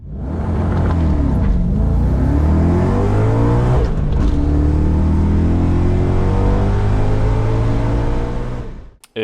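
An Audi B6 car is launched hard and then accelerates at full throttle. The engine note climbs through the gears with rising harmonics and there is a brief shift break. It is loud and close, and the clip ends in a sharp cut.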